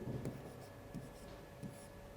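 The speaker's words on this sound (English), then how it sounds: "And also I should write here U2." Short bursts of chalk or marker writing on a board during a physics lecture on neutrinos, a few quick strokes spaced through a quiet room, faint and close.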